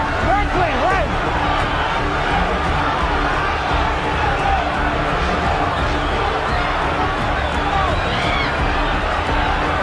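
A boxing arena crowd at the Mike Tyson vs Frank Bruno heavyweight fight sends up a steady, loud roar of cheering and shouting, with a commentator talking over it throughout.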